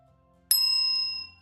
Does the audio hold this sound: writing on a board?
no